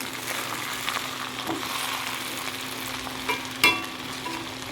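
Minced meat keema sautéed in oil for about twenty minutes, an even close sizzle broken by a few stirring scrapes and one sharp clink of the spatula against the pan.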